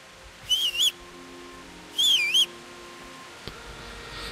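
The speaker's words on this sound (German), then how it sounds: "So, ich pfeife mal." In the video game Kingdom Come: Deliverance, a character whistles two short, clear, warbling two-part whistles a moment apart to call a horse, with a faint click afterward over quiet ambience.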